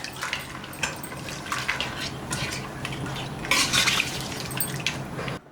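Water, lentils and meat are stirred together in a pressure cooker pot, giving steady close wet sloshing and scraping with light metallic clinks, no talking.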